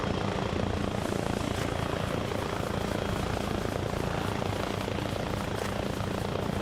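Helicopter in a video game, a constant dense rotor and engine roar filling the whole stretch, loud and unbroken, with no talk over it.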